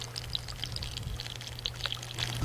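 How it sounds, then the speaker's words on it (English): Water in an aquaponics system spills over an upstand pipe and drains through a full siphon into the lower tank, making a steady, continuous pouring and gurgling rush. "once it reaches that pipe, it begins to spill over and drain into the lower tank with a full siphon"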